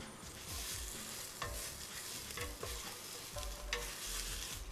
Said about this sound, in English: Once your ginger is in and you fry that up a little bit